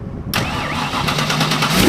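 A 1965 Ford Mustang R fastback race car cranks briefly and fires up with a sudden loud catch, then settles into a rough, lumpy idle close to the microphone.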